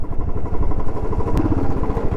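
A motorcycle labours through deep mud from melting snow on the Chanshal Pass mountain road, its engine a loud, close, steady rumble with some clatter throughout.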